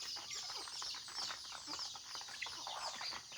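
Week-old labuyo bantam chicks at morning feeding time, a busy cluster of soft high peeping chirps close by, continuous and overlapping.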